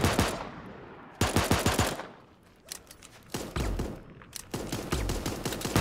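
An M16 assault rifle in Super Animal Royale fires several close, loud bursts of rapid automatic shots, with short pauses between them.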